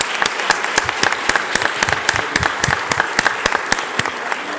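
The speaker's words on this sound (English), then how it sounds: "Can we please give Smiley another round of applause?" Audience applause fills a morning event in Philadelphia, steady dense clapping from a crowd held at an even loud level throughout, with no voices over it.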